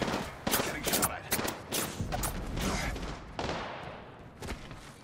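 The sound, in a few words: gunfire from Apex Legends video game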